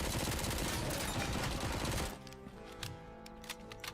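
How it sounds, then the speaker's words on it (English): A mounted machine gun in Robocop: Rogue City hammers out a dense, loud stream of rapid shots for two seconds, then cuts off, leaving scattered quieter clicks and impacts. "Mounted MG. Where am I being shot at from?"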